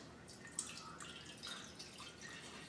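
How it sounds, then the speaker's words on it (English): Bleach solution being poured into a container of rolled rags for homemade wipes, a soft steady trickle with faint drips, close and quiet throughout. "we should probably pour a little in there first"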